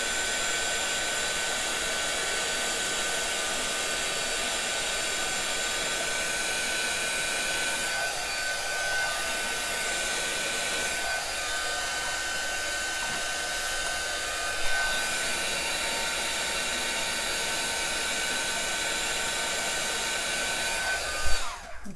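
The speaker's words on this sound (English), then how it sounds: "And then I move my heat gun." A heat gun blows a steady, loud whoosh as it melts embossing powder on a stamped card, a continuous broadband roar held without pause and no voices over it.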